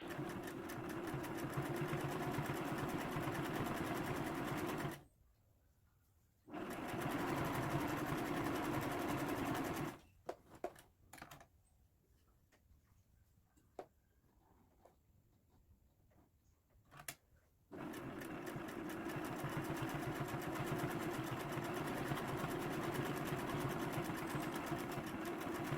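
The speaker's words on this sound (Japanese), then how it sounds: "対角線の両脇に2本ステッチをかけます。" A sewing machine stitching patchwork half-square triangles: three long runs of fast, even needle whirring, separated by quiet pauses with small handling clicks.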